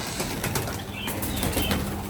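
Birds flap their wings in a bird seller's stock, a few soft fluttering bursts over steady background noise, close by.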